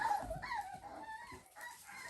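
Seven-week-old golden retriever puppies give soft, high whimpers and a few short yips close by, faint and brief, over a quiet indoor background.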